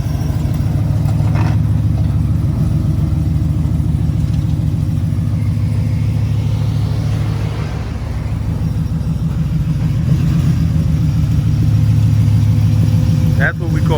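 A damaged, totaled Ford F-150 truck engine running steadily, a low rumbling idle-like drone throughout with a slight dip midway, close and continuous.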